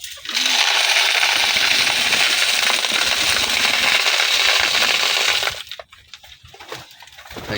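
Grain feed is poured out for pigeons in a loft, giving a steady, loud rattling hiss for about five seconds before it stops and a few scattered pecks and light rustles follow.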